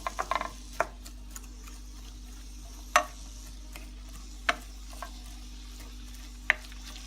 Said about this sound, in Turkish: Sıvı yağ koyduğumuz tavamıza küçük küçük doğradığımız soğanlarımızı ilave edip pembeleşene kadar kavuralım